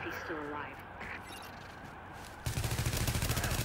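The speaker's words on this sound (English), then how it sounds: "I like this little converted SMGs, man. They can do some damage." A converted SMG in The Division fires a rapid, even burst of shots in the final second, loud and rhythmic, after a stretch of quieter game noise with a voice speaking.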